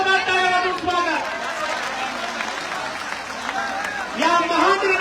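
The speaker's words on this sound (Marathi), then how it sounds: "सर्व मराठा समाजाचे एकदा जोरदार टाळ्या वाजवून स्वागत" A large outdoor crowd at a Maratha community mass meeting claps loudly in welcome, a dense sustained wash of applause with some chatter, swelling again near the end.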